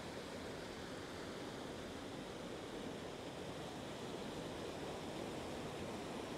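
A spring waterfall in New Brunswick, heard from above among mossy rocks: a constant broadband rush of falling water, steady and fairly faint, with no voices.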